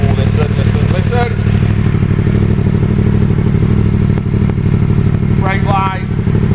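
A Yamaha MT-10 SP motorcycle with a decat exhaust idles steadily up close, its engine a continuous loud rumble, while a person talks briefly over it.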